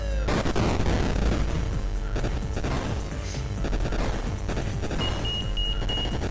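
In the retro Blue Max flight game on an Atari 8-bit, a thin electronic warning tone beeps briefly near the end of the clip, partly masked by dense, loud bursts of machine-gun fire and explosions.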